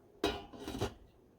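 A lid set down over a pot of elderberry syrup simmering on the stove, giving a brief metallic clatter and scrape lasting under a second, close by and fairly loud against a quiet kitchen.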